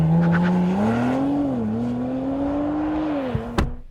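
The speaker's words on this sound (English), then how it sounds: "you get a new sports exhaust that is both louder and is also combined with a new engine mapping that means it barks when it starts" Audi RS 4 Avant Competition Plus (2022) with a louder sports exhaust and revised engine mapping, heard as a steady close engine drone with a rising and falling pitch, ending in a short sharp pop near the end.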